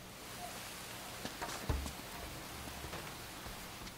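Steady rain hisses softly in the Uncharted 2 video game, a faint even wash broken by a few light thuds and taps, with no voices over it.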